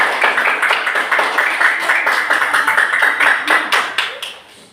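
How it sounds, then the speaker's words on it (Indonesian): Students in a classroom clap for a group after its presentation, a loud, close burst of individual hand claps with audible separate strikes that fades out at the end. "berikan tepuk tangan untuk kelompok"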